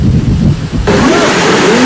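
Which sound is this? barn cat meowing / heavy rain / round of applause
heavy rain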